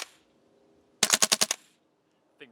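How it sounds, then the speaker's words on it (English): A Mega Arms MKM airsoft gas blowback rifle dry fires on full auto, a short loud burst of about six rapid mechanical clacks, then quiet with a faint clink afterward. "This is going to be just dry firing"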